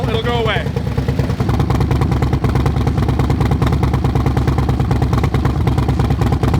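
Harley-Davidson Road Glide idling with a new Blockhead 2-1 exhaust, a steady loud low rumbling pulse throughout, with a brief voice near the start.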